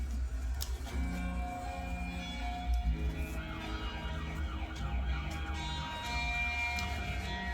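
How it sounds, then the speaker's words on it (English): A police siren on a 12-inch heavy metal vinyl record wails faintly inside the dense music, its tone rising and falling over about seven seconds. "That cop siren, that was the record, not like outside your house"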